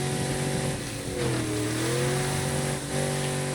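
In State of Decay 2, a car engine revs and drones steadily, pitch rising and falling as the vehicle drives, close and continuous with no talking.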